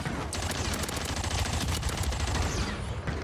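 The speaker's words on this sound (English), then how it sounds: "Bro just sniped the heebie-jeebies out of me." Gunfire in Call of Duty Warzone on Rebirth Island: a dense, continuous barrage of rapid shots and cracks, loud and close, with no pauses throughout.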